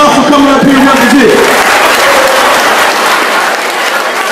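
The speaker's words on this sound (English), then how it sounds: "Give him a round of applause for coming up here and representing." Loud, close applause from a group at an art camp for a participant, dense clapping filling the whole stretch with a voice briefly over the start.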